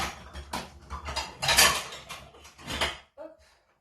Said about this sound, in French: donc je prends un bol